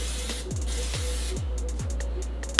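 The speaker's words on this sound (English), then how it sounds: "I'm just gonna spray some cooking spray on the pan." Short hissing bursts of olive oil cooking spray sprayed onto a pan repeat a few times in quick succession over a steady low hum, close by with no talking.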